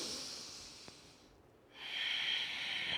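Slow inhalation during a gentle seated chair yoga flow, a soft airy hiss that fades to near silence and then swells again as a steady, close breath, with no talking.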